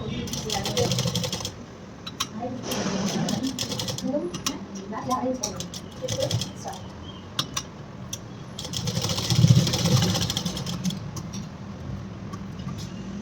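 A sewing machine stitches a pattupavadai blouse in short bursts of rapid mechanical whirring, loudest at the start and near the end, with a voice talking at times.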